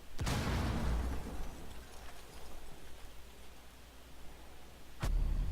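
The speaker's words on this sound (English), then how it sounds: "Throwing frag." A frag grenade explodes in the Rainbow Six Siege video game, a sharp close blast followed by a rumbling, crackling tail, then a second sudden burst near the end.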